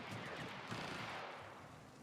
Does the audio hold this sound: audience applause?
no